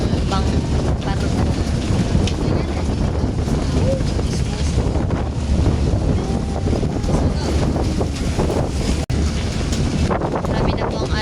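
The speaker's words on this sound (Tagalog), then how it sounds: "Medyo maalo na po sa part na to kaya maalo po ang bang barko." A boat on the sea off Mindoro pushes through choppy, rough waves, giving a steady loud rumble of engine, water and wind buffeting the microphone throughout, with a brief dropout near the end.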